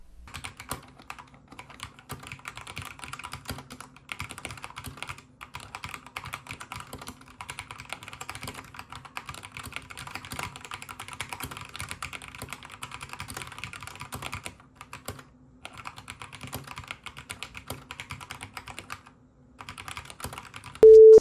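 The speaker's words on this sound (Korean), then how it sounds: "이 제품은 타건 소음도 그렇게 크지 않은 편이라 부담 없이 사용하기에도 괜찮았습니다" Steady, quiet clicking of keys being typed on a wireless mechanical keyboard with light key action, a continuous close patter with a few brief pauses, and no talking.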